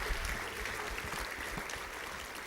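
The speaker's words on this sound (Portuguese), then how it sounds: "Você pode aplaudir ao Senhor, a Ele toda a honra, toda a glória." A church congregation applauding during a worship service, a dense, steady wash of many hands clapping at once, filling the room evenly for the whole stretch.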